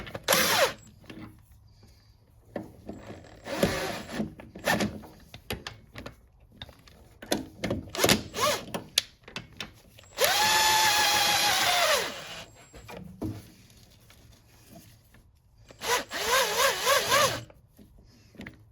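A power tool tightens engine mount bolts on a Honda CR-V with a collapsed engine mount, in short bursts and one longer whirring run, separated by clicks and handling noises nearby.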